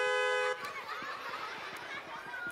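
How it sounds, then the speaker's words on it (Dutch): A horn (toeter) sounded in a Dutch theatre show, a loud, steady honking tone for about half a second, followed by a busy murmur of audience chatter and laughter. "Gebruik de toeter alleen als er gevaar dreigt."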